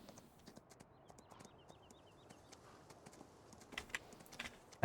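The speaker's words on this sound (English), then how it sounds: "let's take the horse to get ourselves out there" Horse hooves in the Farming Simulator 19 video game, a steady rhythmic clip-clop at a walking pace, fairly quiet and close, with a faint high chirp and a sudden loud thump at the very end.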